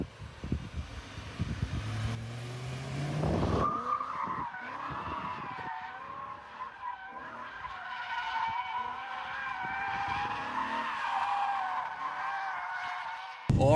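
BMW E92 M3, driven as a stock daily, drifting with its tires skidding and squealing in long sustained howls over steady engine noise, close and loud, after a brief low rumble at the start.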